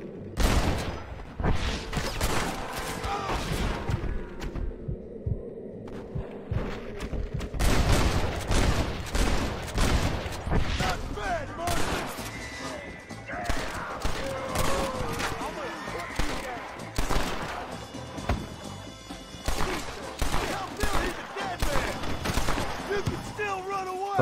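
Gunfire in Red Dead Redemption, repeated loud shots and volleys crackling through a long firefight, with voices talking and shouting between and over the bursts.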